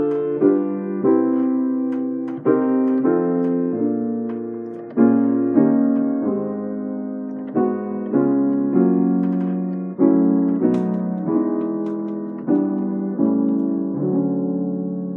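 Jazz ii-V-I chord progression played on a keyboard instrument, a series of sustained chords struck roughly once a second with decaying tails, clear and close, no talking.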